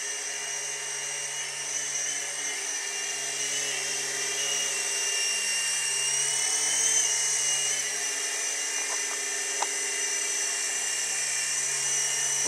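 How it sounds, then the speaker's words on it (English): A small indoor RC helicopter hovering in place, its rotor and motor giving a steady high-pitched whine with a low buzzing hum beneath, continuous and close throughout, with no voices. "With the helicopter now in a hover position"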